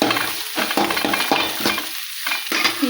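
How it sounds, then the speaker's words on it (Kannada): Green chillies fry in hot oil in a pan while being stirred for a vegetable sandwich filling, a close, loud, continuous sizzle broken by repeated spatula scrapes in an uneven rhythm, with no voices. "ಈಗ ಹಸಿ ಮೆಣಸಿನ್ಕಾಯಿ ಹಾಕ್ತಾಯಿದ್ದೀನಿ, ಅದನ್ನು ಸ್ವಲ್ಪ ಫ್ರೈ ಮಾಡ್ಕೊತೀನಿ ರೀ"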